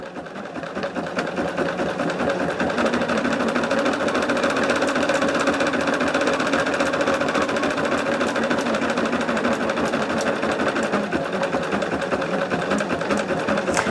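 An embroidery machine stitches a gingerbread design onto tearaway backing with a steady, fast mechanical whirr and rapid needle clatter that runs unbroken and close throughout.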